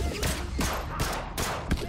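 Gunfire in the zombie strategy game They Are Billions, a rapid series of sharp, loud shots in quick bursts, roughly five or six close reports over two seconds with no talk.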